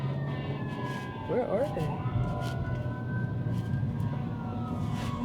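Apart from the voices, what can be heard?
emergency vehicle sirens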